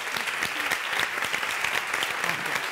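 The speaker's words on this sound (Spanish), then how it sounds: "Un aplauso grande." Large audience applause at the HOST 2018 event, steady dense clapping throughout, loud and close with no voices over it.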